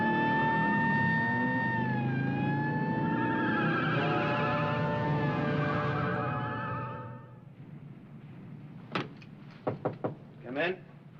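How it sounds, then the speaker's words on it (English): A loud wailing siren holds and slides in pitch for several seconds, then fades out, followed by a few sharp knocks and clicks. "I've got a siren"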